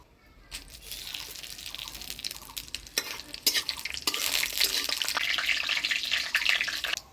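Dry red chili, whole cumin and bay leaf drop into hot oil for a fish curry tempering, starting quiet then breaking into a steady, brightening sizzle with occasional clinks and stirring.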